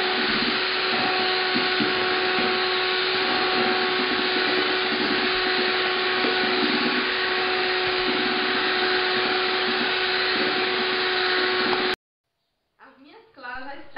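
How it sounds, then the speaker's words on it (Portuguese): An electric mixer beats egg whites to stiff peaks for a formigueiro cake, making a loud, continuous whirring drone for about twelve seconds before stopping. A voice follows. "Eu vou estar batendo aqui em ponto de neve, tá bom?"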